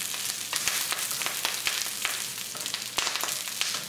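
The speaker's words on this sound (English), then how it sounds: "as soon as you add these black mustard seeds, they're going to start to turn gray and then they will pop." Black mustard seeds sizzle and pop in hot oil in a pan, a dense crackling hiss with frequent sharp little pops scattered irregularly throughout, close and fairly loud, no voices.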